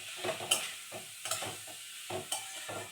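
Potatoes and tender young chickpeas are stirred and fried in a pan, with a rhythmic series of scraping strokes, roughly one every half second, over a soft continuous sizzle, close up and with no talking.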